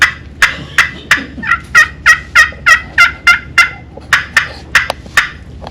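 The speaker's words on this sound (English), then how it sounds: "Clucks, little excited cluck." Quick, sharp excited turkey clucks from a call with a pine burl striker, about sixteen clipped notes in a fast, slightly irregular rhythm, loud and close with a short pause midway.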